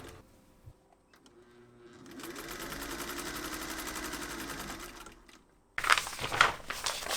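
Machine stitching seams on a patchwork quilt jacket with a short stitch length, a steady mechanical whir building after quiet handling sounds and running for about three seconds before stopping, followed by sharp crinkling of fabric or paper.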